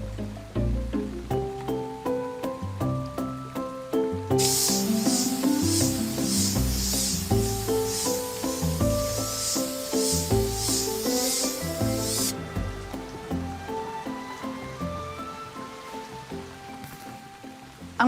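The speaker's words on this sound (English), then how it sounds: "it's now the time for the final varnish, which will seal the retouching in and provide the final coating for the toy box" Final varnish is sprayed onto a painted wooden toy box in a repair workshop: a steady high airy hiss runs for roughly eight seconds, set against continuous background music.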